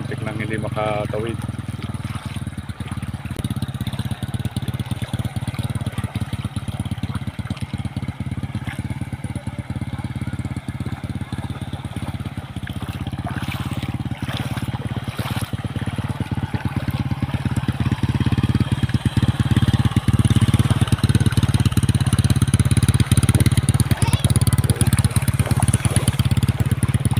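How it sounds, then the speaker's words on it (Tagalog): A motorcycle struggles across a flooded street during a typhoon in heavy rain, its engine droning steadily and growing louder toward the end beneath a constant rain wash, with voices talking throughout. "Motor, muntik nang hindi makatawid."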